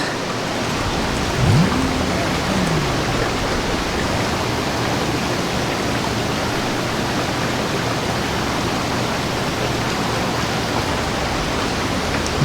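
Water flows steadily in the video game A Dusty Trip as a dense, even rushing wash that stays loud throughout, with a brief tonal chirp early on.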